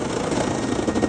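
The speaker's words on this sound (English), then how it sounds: "That sound is the sound of the automatic thing going around cleaning the filter out." A workshop dust collector's automatic filter-cleaning mechanism, heard as a short burst of dense, rumbling, fluttering noise, close and fairly loud.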